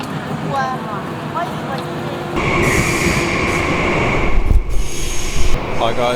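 Train pulling into a station in Suzhou, China: a steady rolling rumble with rising wheel and brake noise and squeals, a low thump near the end, and faint voices in the background.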